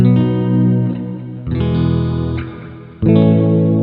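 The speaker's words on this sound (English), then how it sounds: "This is like my main reverb sound." Sustained distorted, heavily processed guitar chords through a reverb pedal modeled on AMS reverb units, with a wide, washy reverb tail, struck again twice and ringing out between hits; no voices.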